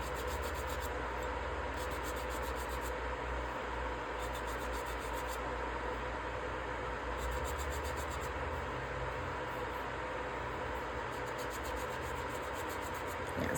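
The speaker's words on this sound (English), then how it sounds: "I'm just kind of making sure I've sanded it evenly so that edging appears." Steady hand sanding along the edge of a ceramic resin candle holder, a soft continuous rubbing rasp at low level with a faint repeating background hiss, no talking.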